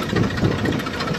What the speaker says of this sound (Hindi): ये देखिए भाई आयचर 380, ये देखिए अभी अभी न्यू लिया है